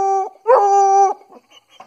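Five-month-old American Foxhound puppy howling in two drawn-out tonal cries, the second longer and louder, followed by a few soft whimpers.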